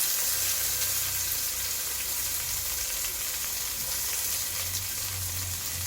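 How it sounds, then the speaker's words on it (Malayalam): Mustard seeds crackle and fry in hot oil in a pan while a shrimp and drumstick curry is being made, giving a steady, even sizzle with a low hum underneath and no voices. "ഇപ്പോൾ കടുക് പൊട്ടി വന്നിട്ടുണ്ട്"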